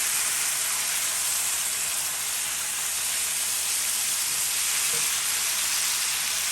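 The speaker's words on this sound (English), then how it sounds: "you're going to add in all your eggplants and your tomatoes and everything in the bowl. And we're going to mix this in" Eggplant and tomatoes sizzle steadily in a hot pot while being stirred together for Guyanese baigan choka, a loud, even frying hiss that continues throughout with no talking.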